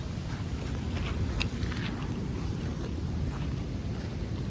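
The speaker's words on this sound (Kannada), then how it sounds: "ಕಡಲ್ದ ಶಬ್ದ ತುಲಿಗೆ ಗಾಳಿ ಉಂಟದ" Sea surf and gusting wind on an open beach, a steady broadband roar with soft wave washes rising and falling, fairly loud throughout and no voices.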